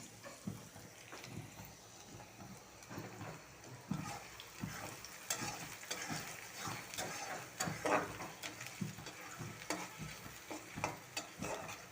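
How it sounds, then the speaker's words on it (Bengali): Chicken pieces fry in a pan, giving a soft sizzling bed under frequent clattering stirs and scrapes of a utensil that come in an irregular, busy rhythm. "মুরগিগুলো আমি একটু ভাজা ভাজা করবো"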